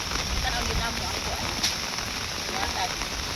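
Heavy rain pours steadily outdoors, a dense, even roar of hiss that stays loud and unbroken throughout, with no distinct drops standing out.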